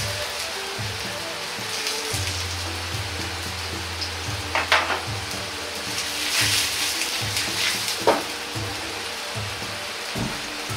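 Daikon radish searing in a frying pan gives a steady, rain-like sizzle and crackle, punctuated by a few sharper pops and spatters, close and continuous.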